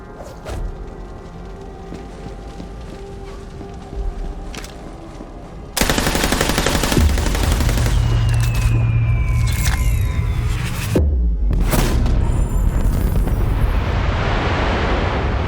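Gunfire and explosions aimed at the moon in Borderlands 3, rapid machine-gun bursts that swell into a loud, sustained roar of blasts and rumbling detonations, with a descending whistle and a brief gap before the barrage resumes.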